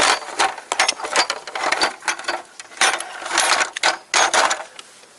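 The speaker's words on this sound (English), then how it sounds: "And now I have installed this bolt in here, and then I start to rotate this bolt." A compressor bolt is turned on a front spring of a 1996–2007 Toyota Corolla, giving rapid, uneven metallic ratcheting clicks and grinding in close bursts.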